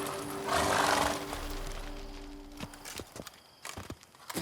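Geralt's horse Roach in The Witcher 3: Blood and Wine, hooves clip-clopping close by before slowing to a few scattered, uneven steps as the mount is reined in, with no talking.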